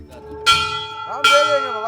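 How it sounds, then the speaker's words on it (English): Two sharp, ringing strikes of a metal bell rung by an Aghori, each clang bright and resonant with a lingering shimmering decay, close and loud. "He's ringing the bell uncontrollably."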